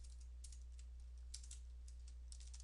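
Quiet typing on a computer keyboard, a few short clusters of soft key clicks over a low steady hum.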